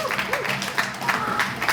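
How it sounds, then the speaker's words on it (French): Game-show studio audience breaking into applause, a dense, lively clatter of hands with a voice briefly audible beneath it. "Bon, allez, on l'applaudit."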